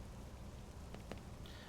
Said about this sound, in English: it seems like it's normal rain, not a thunderstorm.